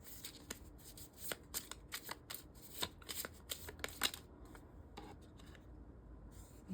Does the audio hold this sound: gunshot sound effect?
no